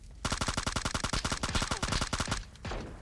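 Rapid automatic gunfire in the video game PUBG Mobile, a tight rhythmic burst of some two dozen close, loud shots, then a short pause and a softer trailing noise.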